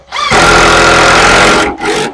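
A loud, close power drill drives screws into a wooden wine rack, whirring steadily for over a second, stopping briefly, then spinning again in a short second burst.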